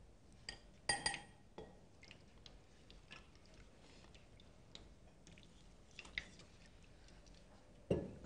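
Water is added to simmering kadhi while it is stirred, with soft liquid sloshing, a few sharp clinks of a utensil against the pot, and occasional drips, fairly quiet and close.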